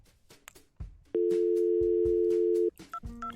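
Simulated telephone call tone in a Cisco Packet Tracer VoIP setup linking two routers: a single steady electronic tone held for about a second and a half, loud and clean, with short beeps and soft clicks around it.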